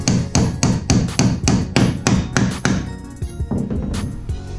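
Roofing nails are hammered to fasten a metal strap while PEX water lines are run for a bathroom, giving about ten sharp, loud, close metallic blows in a quick steady rhythm, followed by lighter, scattered taps and clinks.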